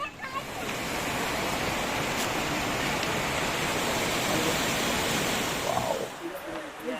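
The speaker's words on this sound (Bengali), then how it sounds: "ঝর্ণার শব্দ শোনা যাচ্ছে তো" Rushing water at Devkund waterfall, a loud, continuous broadband roar that stays level for most of the clip before easing slightly near the end, with a faint human sound briefly audible.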